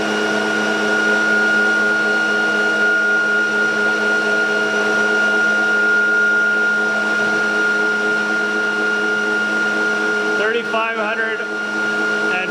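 A ReGenX generator motor running in motor mode gives off a steady electrical hum with sustained tonal whine, holding constant for several seconds before some clattering near the end.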